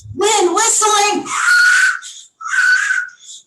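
A voice mimics whistling wind with breathy, rising and falling hisses and a couple of shorter whooshing bursts, close and fairly loud.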